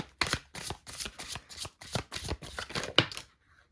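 Tarot cards being shuffled, a run of about nine crisp riffling bursts in a steady rhythm, close and fairly quiet, ending in a short pause.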